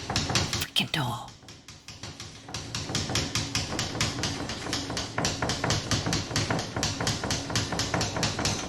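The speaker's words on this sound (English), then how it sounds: "Tapping's horrible." Rapid, steady knocking on a door repeats loud and close in an even rhythm for several seconds, after a brief voice at the start.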